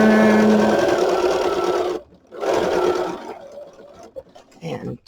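Sewing machine stitching around a paper junk journal envelope, two loud bursts of rapid whirring separated by a short pause, then quieter handling noises as it stops and the work turns.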